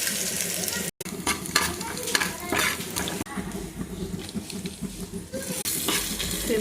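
Dried red chillies, coriander seeds and cumin crackle and sizzle in hot oil in a pan, with stirring and occasional clinks of the utensil against the metal.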